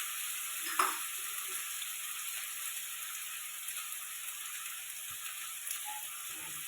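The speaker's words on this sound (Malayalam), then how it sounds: "അതിലേക്ക് ഉരുളക്കിഴങ്ങാണ് ആദ്യം വഴറ്റുന്നത്." Potatoes sautéing in a pan in a hot home kitchen, a faint steady sizzling hiss running throughout with one small clink near the start and no talk.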